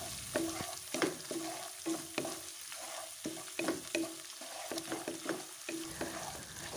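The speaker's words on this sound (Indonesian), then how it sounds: "Aduk-aduk hingga semuanya tercampur merata." Close-up stirring of a noodle dish in a frying pan: rhythmic scraping strokes of a utensil against the pan over a soft sizzle, repeating steadily.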